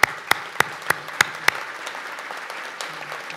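A handful of sharp, separate claps ring out at a state police trooper commencement in Albany, spaced evenly at first and then dying away into a quiet room with faint background murmur.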